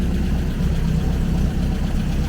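An MGB car engine idles steadily, a low, even rumble with a faint rhythmic throb and no other sounds.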